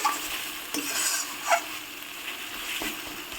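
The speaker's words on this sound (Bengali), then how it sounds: "মশলাটা কি সুন্দরভাবে ভাজা ভাজা হয়ে গেছে" Spice paste sizzles and fries in a pan, with a few scraping stirs of a spoon against the metal at irregular moments.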